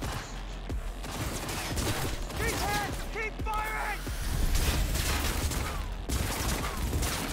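Dense gunfire in a Cyberpunk 2077 firefight: a busy mix of rapid shots, impacts and mechanical clatter under shouting voices and game chatter, continuous and loud throughout.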